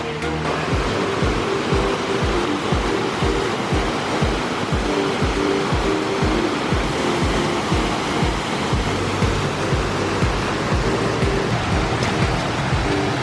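Small waterfalls along a rainy trail give a steady, dense wash of rushing water, continuous and fairly loud throughout with no voices.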